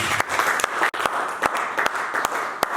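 A church congregation applauding during a sermon, dense steady clapping from many hands filling the room, with a brief dip partway through.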